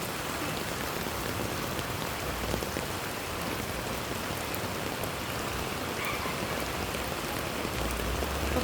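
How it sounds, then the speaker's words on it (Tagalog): Heavy rain pours steadily and loudly over a flooded neighborhood, a dense, unbroken hiss of drops without a pause. "Tapos tuloy-tuloy ang buhos ng ulan."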